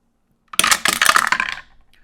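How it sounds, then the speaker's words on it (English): Several dice clatter down through a dice tower in a quick, loud burst of bright rattling clicks lasting about a second, then settle into a few fading ticks, with no talking. "let's do these dice. I apologize, the dice tower. This might get loud."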